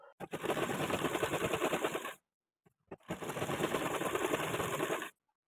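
A sewing machine topstitches right along the edge of the zipper placket on a child's frock, running in two dense, steady rattling bursts of about two seconds each, separated by a brief pause, close and loud with no talk.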